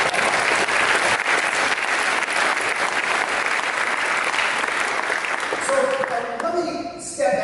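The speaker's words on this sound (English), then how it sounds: "So give yourself a round of applause." Audience applause fills a Milwaukee Tool event, a dense, steady clapping that holds loud for several seconds before thinning out as voices and other sounds emerge near the end.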